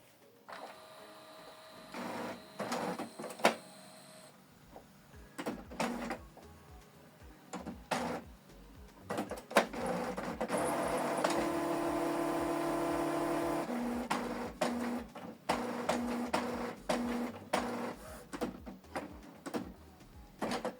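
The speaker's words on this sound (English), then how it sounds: "you need to select this button to switch the printer on" A Canon Pixma TS7550i printer powering up runs through mechanical whirs, clicks and clunks, then a sustained motor drone in the middle before more intermittent clicks, moderately loud and close, with no speech.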